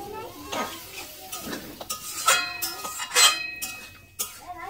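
Ginger, garlic, cumin and dried chili paste with water is stirred in a pan on the stove for a mussel curry, giving repeated scraping, clinking strokes of a spoon against the pan with a faint sizzle underneath.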